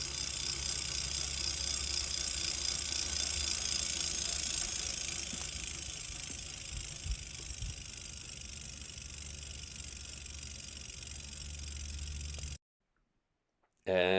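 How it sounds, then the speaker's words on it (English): An original freewheel on a 1982 Schwinn SideWinder bicycle turned upside down spins with a fast, even ticking buzz, close and steady for about twelve seconds before cutting off abruptly. "With the bike upside down, you can hear how cool this original freewheel sounds."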